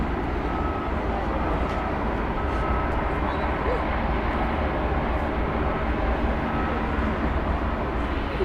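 An aircraft taxis at DFW airport, a loud steady jet engine roar that holds evenly from start to finish, close and continuous.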